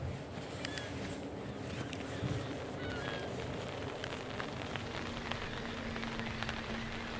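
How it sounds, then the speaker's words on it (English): Rain patters steadily on a fishing bivvy on a freezing cold day, a close, continuous hiss with scattered drops ticking on the fabric and a faint hum beneath. "It's freezing cold and the rain still hasn't stopped."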